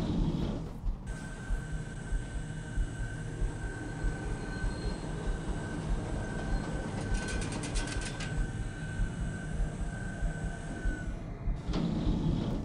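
Elevator in Goat Simulator climbing toward a roller coaster in Goat City Bay, a steady mechanical rumble with a constant whine running for about ten seconds before it abruptly stops, with a brief metallic rattle midway.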